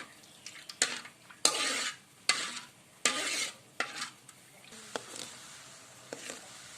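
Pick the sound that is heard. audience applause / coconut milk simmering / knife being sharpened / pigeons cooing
coconut milk simmering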